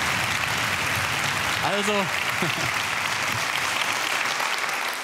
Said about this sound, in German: Könnt ihr klatschen?